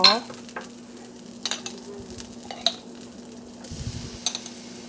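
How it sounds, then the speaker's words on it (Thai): Thai roasted chili paste stir-fried in a pan for a seafood bucket dish: soft sizzling under a steady hum, with repeated sharp spatula scrapes and clinks against the pan at irregular intervals. "ต่อมาก็จะใส่พริกเผา"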